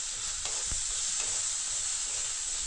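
Rice tempered with spices in a pan sizzles at a steady hiss, with a couple of brief spoon scrapes as it is stirred.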